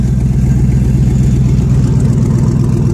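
A Chevrolet S10 engine idles steadily and loudly up close, a low, even throbbing rumble that holds without revving.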